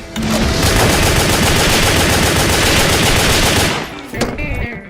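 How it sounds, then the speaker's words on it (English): Machine gun fire in the video game WET rattles in a loud, continuous burst lasting nearly four seconds, followed by a short pause and a few trailing shots. "they're machine guns. They do exactly what you'd expect."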